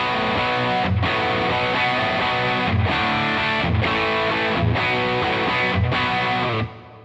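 Heavily distorted electric guitar through an amp preset plays loud chords in a repeating rhythm, with thumping accents, and cuts off abruptly near the end.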